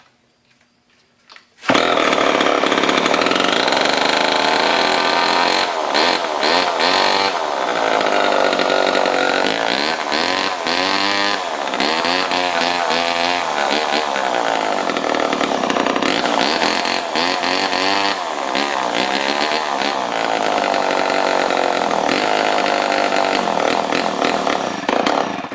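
An old scrap chainsaw, run with a little choke, catches after a brief quiet moment and then runs loud and continuously, its raspy two-stroke engine wavering in pitch as the throttle surges.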